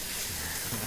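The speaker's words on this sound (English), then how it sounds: "As that bacon is sizzling" Bacon sizzles in a pan at a cooking competition, giving off a brief, steady, close-up hiss that fills the moment.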